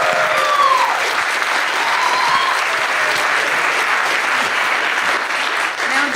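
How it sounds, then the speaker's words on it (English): A large audience applauds steadily at a Hall of Fame induction in Kirkland honoring retiring councilmember Doreen Marchione, dense clapping sustained at an even level throughout with a faint voice or cheer briefly rising early on. "So let's have a big round of applause for Doreen Marchione."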